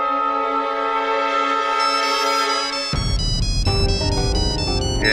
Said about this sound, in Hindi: ये आते ही तेरे फोन शुरू हो गए।